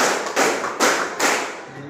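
A group claps in unison in a classroom, giving four loud broadband claps evenly spaced about every 0.4 seconds, with no talking.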